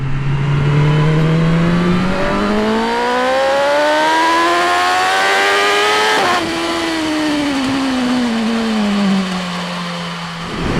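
A BMW M 1000 R motorcycle accelerates hard in road mode, its engine note rising steadily in pitch, dipping briefly at a gear change, then climbing and easing off; loud, close and steady with no talking.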